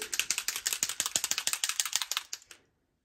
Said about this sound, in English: I'm giving it a shake to mix up the colour.